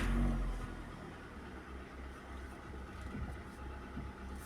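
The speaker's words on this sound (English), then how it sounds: "start the car." A manual car's engine catches at the start and settles into a quiet, steady low idle for a few seconds, with no talking.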